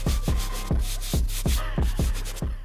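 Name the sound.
brush scrubbing white leather of Air Jordan 1 sneaker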